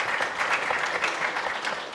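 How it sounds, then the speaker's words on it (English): A crowd at the launch of Ghana's National Rental Assistance Scheme gives a round of applause for the minister, with dense, steady clapping that stays loud and even throughout. "A round of applause for him."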